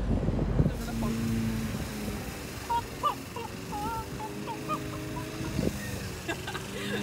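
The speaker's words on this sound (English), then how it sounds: "There's more chickens sneaking up on you." Chickens near a rental car in Florida give a few short, clucking calls at moderate distance over a steady outdoor background hum.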